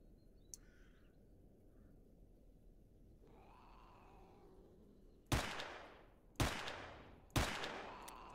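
Gunfire in the video game S.T.A.L.K.E.R. Anomaly, three loud separate shots with ringing decay, spaced about a second apart, following quiet ambient noise and faint creature sounds.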